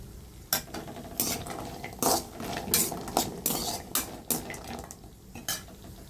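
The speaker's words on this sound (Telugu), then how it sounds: "ఇప్పుడు జీడిపప్పు వేసుకుందాం" Cashew nuts fry in a pan under a light sizzle as a spoon stirs them, with repeated sharp metallic scrapes and clinks in an irregular rhythm, close and fairly loud.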